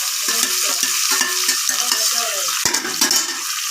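Curry leaves sizzling in hot oil for an Andhra raw mango pickle, a bright continuous crackling hiss with repeated scraping stirs of a spoon against the pan, close and alone.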